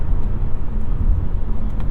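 A 2023 Mazda CX-30 getting up to highway speed at a reasonable pace, heard from inside as a continuous low engine and road rumble with steady tire noise.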